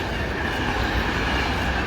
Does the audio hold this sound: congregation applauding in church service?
no